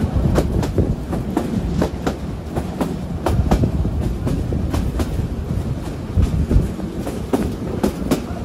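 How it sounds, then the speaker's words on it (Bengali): The Korotoa Express, a Bangladeshi passenger train, runs on rails with a loud, close rumble and a regular clickety-clack of wheels over rail joints. "আমাদের ট্রেন এসে পৌঁছালো তিস্তা জংশন।"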